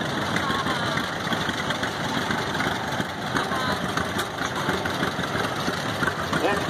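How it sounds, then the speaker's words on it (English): A 1936 John Deere BI tractor runs in a parade at an engine show, its engine chugging steadily at moderate distance under a loudspeaker announcer and crowd noise. "Next we have a John Deere BI, 1936"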